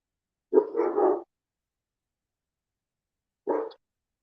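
Inside a house during a paranormal investigation, a dog lets out a fairly loud run of barks, then a single shorter bark after a few quiet seconds.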